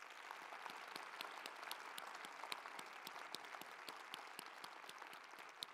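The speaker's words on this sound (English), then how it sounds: "Let's give another round of applause." Steady applause from an audience at an awards ceremony honoring women, dense clapping that fills the room without pause.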